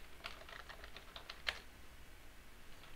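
A password is entered on a computer keyboard to log into a remote machine from Azure PowerShell: a faint, quick, irregular run of about a dozen soft key taps, one slightly sharper, in a quiet room without speech.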